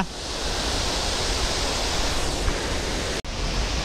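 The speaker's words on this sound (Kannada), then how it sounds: "ನೀವು ಬಲಮುರಿಯಿಂದ ಹೀಗೆ ಬಂದರೆ ನಿಮಗೆ ಈ ಎಡಮುರಿ ಫಾಲ್ಸ್ ಇದೆ ವೀಕ್ಷಕರೇ, ನೋಡ್ತಾ ಇದ್ದೀರಲ್ಲ" Edamuri waterfall near Srirangapatna, swollen after rain, gives a steady, dense roar of rushing water, loud and continuous with no voices.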